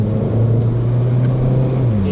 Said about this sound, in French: le moteur turbo, le petit effet turbo que n'avait pas l'autre, c'est ça en fait